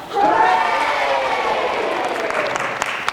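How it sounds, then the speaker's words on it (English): A theatre audience at a stage production of Anne of Green Gables applauds and cheers for Anne Shirley and Gilbert Blythe, a loud, dense crowd roar with a raised voice rising over it at the start. "Cheer for Anne Shirley and Gilbert Blythe."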